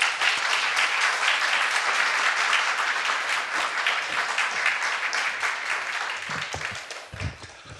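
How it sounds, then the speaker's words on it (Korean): A church congregation applauds in welcome as the pastor comes forward at a Sunday worship service, with dense, sustained clapping that holds steady and loud before thinning toward the end. "우리 목사님 나오실 때 따뜻한 환영의 박수 부탁드리겠습니다."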